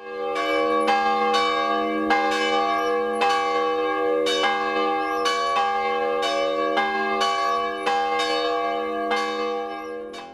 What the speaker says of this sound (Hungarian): a templom toronyba, ahol három harang lakik